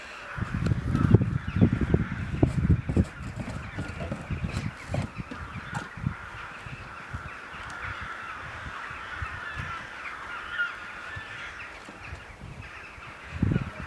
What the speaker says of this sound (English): There's all the birds settling in for the night.